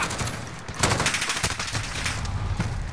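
Rapid automatic gunfire in Call of Duty: Modern Warfare, dense overlapping bursts of shots that run continuously through the clip, loud and close with no talking.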